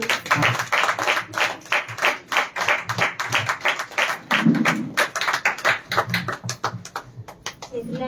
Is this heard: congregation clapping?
yes